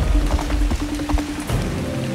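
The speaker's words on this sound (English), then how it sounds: "The rain is stopping." Rain patters on surfaces at a forest campsite, a dense, close, steady wash of drops with no one talking over it.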